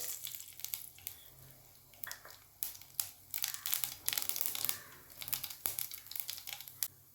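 Dried red chillies, mustard seeds and urad dal frying in a little oil for green ponnanganni keerai, giving a faint, steady crackle with scattered sharp pops and spits throughout, no voices.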